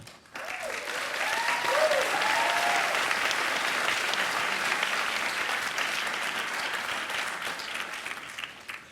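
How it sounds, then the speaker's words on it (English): Sustained applause from a large crowd at a school commencement ceremony, rising quickly and holding steady and loud for several seconds before easing slightly. "We ask you to come forward individually to receive our applause"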